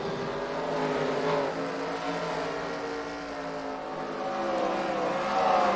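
Stock cars racing at Devils Bowl Speedway, Texas, in the Truetimber Camo 100, with a sustained roar of several engines shifting pitch and swelling louder as cars sweep past.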